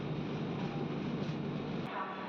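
A Machilipatnam-Bidar Superfast Express train pulls into Vijayawada station with a steady, broad rumble of wheels and carriages, continuous and fairly close, easing slightly near the end.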